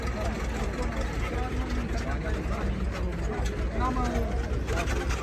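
A tractor engine runs continuously as it hauls a loaded sledge through winter, giving a low steady rumble with people talking over it.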